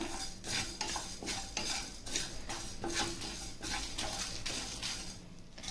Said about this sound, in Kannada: ಕೊತ್ತಂಬರಿ ಕಾಳು, ಚಕ್ಕೆ ಮತ್ತು ಮೆಂತ್ಯಕಾಳು, ಜೀರಿಗೆ ಇವೆಲ್ಲವೂ ಚೆನ್ನಾಗಿ ಹುರ್ಕೋಬೇಕು